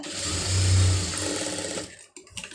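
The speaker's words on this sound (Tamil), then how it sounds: "கரெக்டாக ஒட்டில் வந்து தையல் போடுங்க" Close, loud, steady whir of a sewing machine stitching along the edge of a lining piece, which stops abruptly near the end and leaves a few faint clicks.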